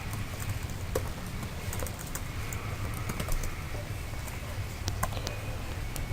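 Scattered, quiet clicks of keys being typed on a computer keyboard, irregular single taps spread through a faint, hushed room background.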